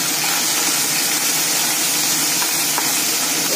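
Tangra fish frying in hot oil, a steady loud broadband sizzle and hiss filling the whole stretch without a break, no voices.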